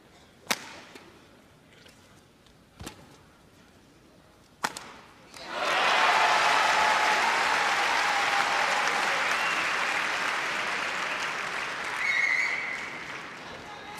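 Crowd applause swells up and holds loud and steady after a few sharp claps and shuttle strikes, at the 1987 All England badminton final between Icuk Sugiarto and Morten Frost Hansen.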